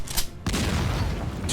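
A cannon in the Darkest Dungeon 2 video game fires, a loud booming blast followed by a dense, sustained rumble of explosive impact, close and forceful.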